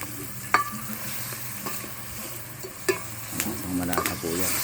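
Pieces of tough cal meat, pre-boiled until tender, drop into a hot pan for adobo and sizzle steadily, with stirring clatter and a few sharp clinks over the continuous frying hiss.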